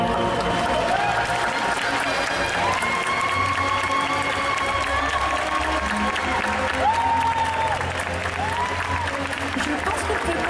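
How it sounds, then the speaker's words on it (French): An audience at an indoor competition applauds steadily, a dense wash of clapping from many hands with some cheering, while a voice speaks over it. "Allez, on les applaudit très très fort."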